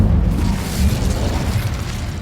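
The Incendio fire spell is cast in Hogwarts Legacy, giving a loud, rumbling whoosh of flame with low booming bursts that carries on steadily for a couple of seconds.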